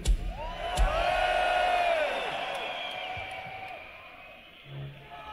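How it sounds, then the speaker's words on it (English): A rowdy arena crowd at a concert in Manchester's MEN Arena, cheering and whooping loudly in a sustained roar with high whistles and yells, fading slightly toward the end. "This is this is quite a rambunctious crowd."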